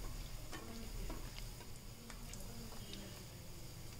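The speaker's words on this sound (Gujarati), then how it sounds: "આ રીતે આપણે ભલ્લાને પણ તળી લઈશું. આપણા ભલ્લા તળાઈ ગયા છે." Medu vada, urad dal fritters, fry in hot oil and are turned gently with a spoon. A quiet, steady sizzle carries faint ticking spatters throughout.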